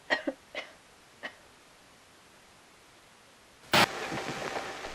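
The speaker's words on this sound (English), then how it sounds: "Mary asks James to bring her back here again before coughing" A woman coughs a few times in a Silent Hill 2 video game cutscene: short, hoarse bursts early on, then a pause before a sudden loud rush of noise near the end.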